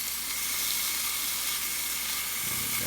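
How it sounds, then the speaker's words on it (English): Ham sizzling in a frying pan gives a steady, soft, high hiss of frying with faint crackle throughout, heard alone. "you can hear, possibly, the ham sizzling, starting to get its flavor"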